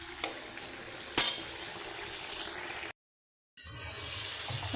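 Jackfruit seeds being stir-fried in a pan give a continuous soft sizzle with a few utensil scrapes and clinks, broken by a short silent gap before the frying resumes.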